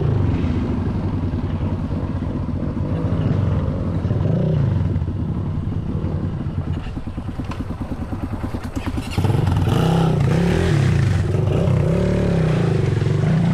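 A motorcycle engine rumbles near a trail entrance in Batangas with a low, throbbing idle. It rises into a rapid pulsing rev, then settles into a louder, steady drone.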